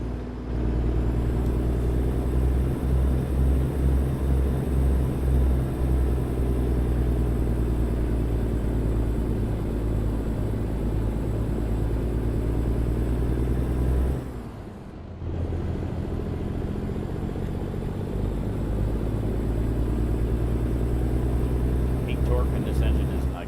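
Kenworth T680 truck with a Paccar engine and TX18 transmission in a truck-driving game, a steady low diesel rumble droning continuously, briefly dipping mid-way as if shifting, then resuming at the same level.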